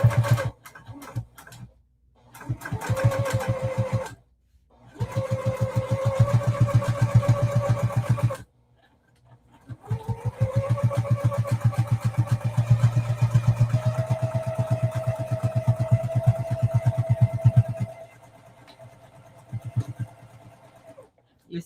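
A home embroidery machine stitches an in-the-hoop mini quilt block with a steady, rapid mechanical hum and needle chatter. The run pauses briefly a few times and then starts up again. The sound is close and loud with no talk over it.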